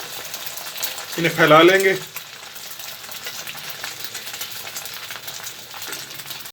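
Eggs fry in a pan for an anda shami burger, a soft continuous sizzle running underneath as someone briefly speaks.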